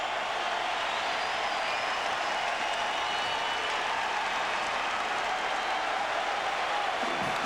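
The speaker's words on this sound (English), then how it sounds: "This crowd is going crazy." Basketball arena crowd at a 1999 NCAA Tournament second-round game roaring steadily and loudly throughout, a dense continuous wash of cheering with scattered clapping.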